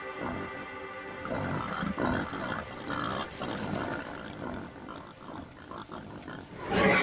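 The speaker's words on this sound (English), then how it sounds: "A group of wild pigs risks a brief visit." A group of wild pigs visits a depleted waterhole in an Indochinese jungle during the dry season, giving low grunts, snorts and rough squeals with rustling movement over several seconds. No voices are heard.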